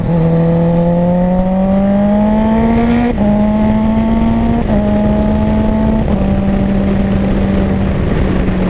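A Kawasaki Ninja H2 motorcycle with a quick shifter accelerates through the gears, its loud, near engine note rising steadily then dropping sharply at each of four quick upshifts, with no talking.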